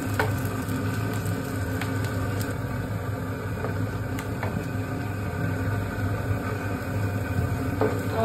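Onions fry in mustard oil in a pan, giving a steady, close, even sizzle that holds without a break and has no voices over it.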